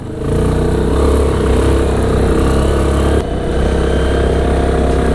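ATV quad bike engine running loud and close while riding, a steady mid-pitched drone with continuous throttle and a brief dip partway through, no talking.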